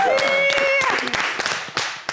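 A studio audience on a French-language TV talk show applauds arriving guests: brisk, scattered clapping that builds after a moment, mixed with a voice and a bright held tone at the start.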